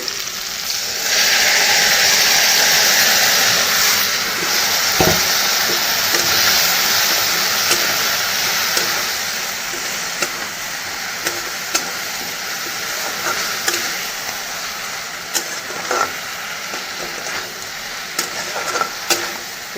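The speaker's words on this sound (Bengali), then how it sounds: "এদিকে মশলা দিয়ে ভালো করে সাঁতলিয়েও নিয়েছি" Spice masala fries in a pan while being stirred, a continuous close sizzle broken by repeated scraping knocks of the spoon against the pan, with no talking.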